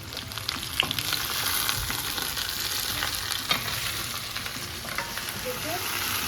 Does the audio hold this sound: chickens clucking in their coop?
no